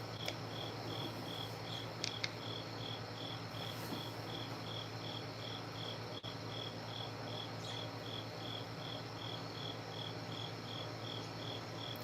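Crickets chirp outdoors in a fast, steady pulsing rhythm, moderately close, over a constant low background chorus that may include frogs; no talking.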